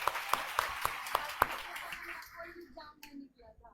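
An audience claps in a quick, crisp series of about six separate claps, then the clapping thins out as a voice speaks over the fading applause.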